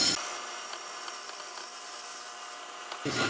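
A woodturning lathe tool shaves a turnip spinning on the lathe, a steady, close scraping hiss that holds for about three seconds before the cut stops.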